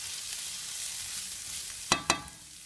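Garlic sizzles in a pan with a steady frying hiss, and two sharp clinks near the end come from a utensil stirring it.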